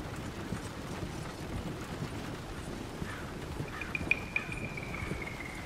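Faint clip-clop of hooves on a hard road in a steady rhythm, under wind and background noise, with a brief high whine near the end.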